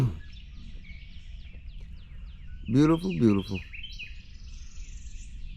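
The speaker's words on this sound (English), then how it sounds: "A lot of birds out and about this morning." Morning birds chirping outdoors near the water, repeated high tweets and short calls at moderate distance, with someone briefly speaking partway through.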